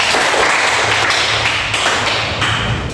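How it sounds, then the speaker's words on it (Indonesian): A crowd applauding with dense, steady clapping that fills the room, loud and continuous from start to finish. "Tepuk tangan dulu"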